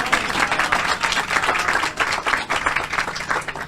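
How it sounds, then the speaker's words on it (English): An audience at a community hub ribbon-cutting ceremony claps for the architect, a moderately loud patter of hands that swells and dips in uneven waves throughout. "Y'all can clap for Alfonso."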